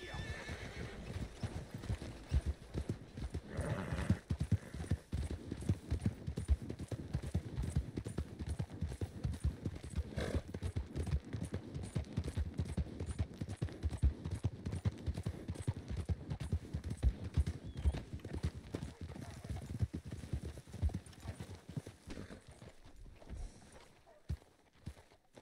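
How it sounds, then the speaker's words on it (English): In Red Dead Redemption 2 Online, horse hooves clip-clop steadily and close by during a bounty-hunting ride with a posse, with whinnies and snorts mixed in and occasional faint voices. "Look at that pretty white horse"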